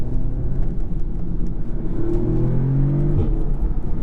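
A 2017 Audi S3 with a DSG gearbox accelerates in manual second gear, its engine droning and rising in pitch, with exhaust pops and crackles breaking through near the end of the pull.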